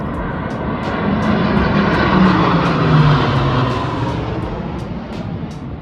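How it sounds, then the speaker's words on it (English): A massive old propeller plane flies over near a bridge in Cañon City, Colorado, its broad engine drone swelling to a peak mid-clip and then fading as it passes. "We even got to witness a really cool flyover from a massive old plane."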